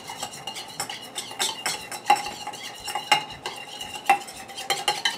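A utensil stirs a seasoning mix in a bowl for sweet and spicy air fryer pork chops, with quick repeated scraping and light clinks against the dish, close and fairly loud, with no talking.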